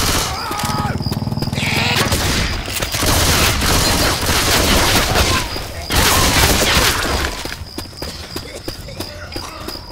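Shotgun blasts in the zombie shooter Left 4 Dead 2 on expert mode, loud repeated booming shots amid dense, continuous game noise and clatter, with no talk.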